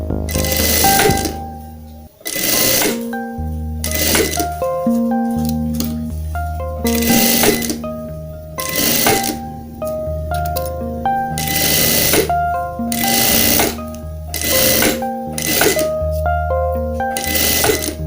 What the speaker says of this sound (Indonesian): Sekarang kita jahit.